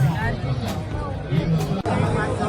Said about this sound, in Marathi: इतकी गर्दी होती ना, आता गर्दीतनं वाट काढत आम्ही पुढे गेलो.